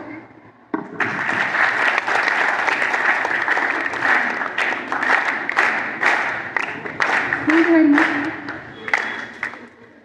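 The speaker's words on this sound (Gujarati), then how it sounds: "બધા વિદ્યાર્થીઓ તેમજ વિદ્યાર્થીનીઓ 3 તાળી વડે સ્વાગત કરશે" Students at an election awareness gathering for women applaud in welcome, a loud sustained burst of clapping from a crowd lasting several seconds after a brief quiet start, with some voices mixed in.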